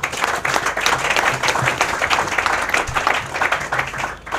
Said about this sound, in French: je vous demande de bien vouloir les applaudir massivement